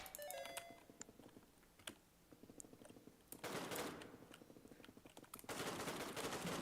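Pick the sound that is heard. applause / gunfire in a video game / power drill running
gunfire in a video game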